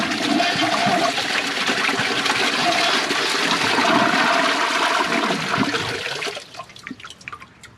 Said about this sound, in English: Let's see if it flushes or if it clogs.